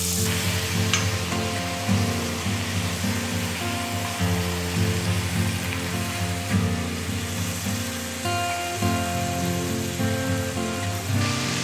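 Garlic fries in olive oil in a pan, a continuous close-up crackling sizzle with a steady underlying hum and occasional louder pops.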